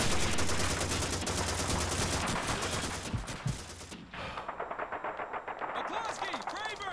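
Sustained machine-gun fire from a Call of Duty 2 D-Day battle, dense rapid bursts rattling loudly for the first four seconds, then thinning into scattered, more distant volleys.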